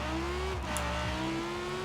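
An Italdesign supercar's engine in the racing game Forza Horizon 4 holds a steady, loud drone, then briefly drops pitch as it shifts, and settles back into a sustained hum.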